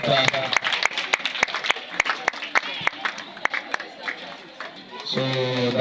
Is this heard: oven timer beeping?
no